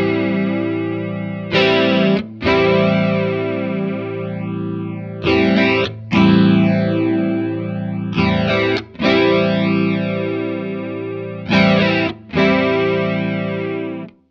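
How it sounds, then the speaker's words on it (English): Strymon Zelzah modulation pedal shifting from phaser into flanger response on a sustained distorted guitar, with sweeping comb-like swirls rising and falling over ringing held chords that are restruck several times. "By the time the voice knob is at 1 o'clock, the phaser characteristics of the algorithm are being dominated by the time characteristics of the algorithm, and we're into traditional flanger response."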